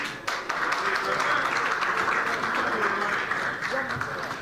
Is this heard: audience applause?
yes